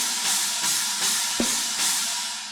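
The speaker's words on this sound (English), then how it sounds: "this is the sound of the P5 cymbals" Raw P5 cymbals in a deathcore drum recording wash and crash repeatedly in a harsh, bright, sustained roar, with one low drum thump partway through.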